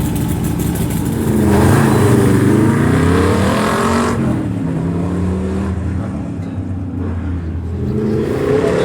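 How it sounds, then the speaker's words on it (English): A 1965 Corvette with a small-block V8 and side pipes roars hard through an autocross run, its loud, raspy exhaust revving up and easing off as it carries on past, close and unbroken for several seconds. "Ken Yo, 65 Corvette, small block, side pipes, mini lights."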